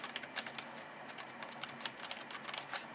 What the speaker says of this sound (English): That's the keystrokes.